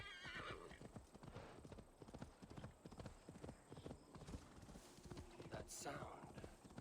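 A horse gallops in Assassin's Creed Valhalla with rapid, steady clip-clop hoofbeats and a neigh near the end, a player's voice talking over it.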